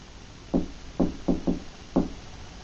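Knocking on a door, five sharp raps in an uneven rhythm, heard from a short distance against a quiet background.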